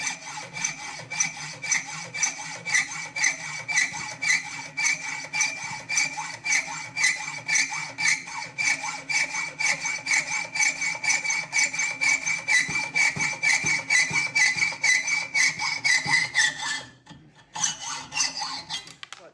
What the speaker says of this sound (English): just cut it carefully, cut the head of the bolt off